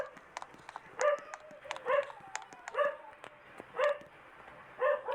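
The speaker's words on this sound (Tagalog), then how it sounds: "Maingay yung aso namin." A household dog barks in repeated short bursts spaced about a second apart, with yips and a faint whimper between them, fairly close but not loud.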